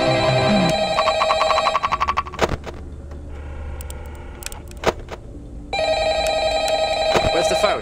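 A phone rings in the horror video game FNAF Ultimate Custom Night, loud repeated electronic bursts that come at the start and again near the end, with clicks, thumps and a brief voice in the gap between.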